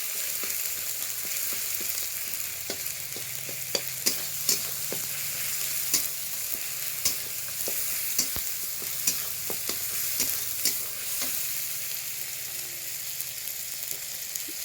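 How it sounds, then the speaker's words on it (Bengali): Small shrimp with turmeric and chili powder are stirred in a hot pan in a village home kitchen, a constant close sizzle broken by scattered sharp clicks and scrapes of the spoon against the pan, no voices. "কুচো চিংড়ি দিয়ে হালকা নাড়াচাড়া করলাম।"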